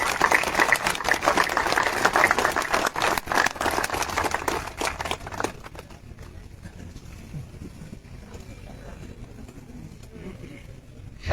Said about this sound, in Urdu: کھڑے ہو کے تالیاں بجا کے ان لوگوں کا شکریہ ادا کریں